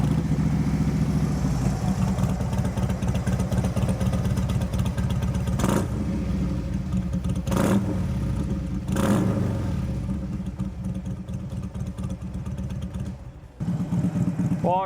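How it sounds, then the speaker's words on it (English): Harley-Davidson Dyna motorcycle with its exhaust baffles removed, idling with a loud lumpy rumble and blipped three times in sharp revs, then settling back to idle before cutting near the end. "So I'm gonna go ahead and start this bike up, give it a couple revs so you can hear what that sounds like."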